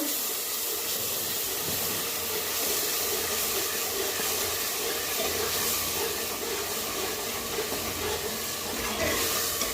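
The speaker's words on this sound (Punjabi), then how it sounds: "ਆਪਾਂ ਤੜਕਾ ਪਾ ਦਿੱਤਾ ਵਿੱਚ" Hot oil hissing and sizzling steadily in a pan after the tadka tempering goes in, while cooking a milk and carrot sabzi, a continuous close broadband crackle with no talking.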